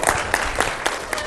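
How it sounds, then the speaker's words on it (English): An audience claps for a lighting operator at a talk, a brief dense burst of applause that is loud and continuous throughout. "Let's give the light operator a round of applause."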